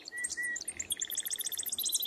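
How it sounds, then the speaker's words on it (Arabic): Kinglet singing, a faint series of high, thin notes that speed up into rapid tinkling trills, heard alone against quiet background. "أسمع الآن صوت عصفور الملك"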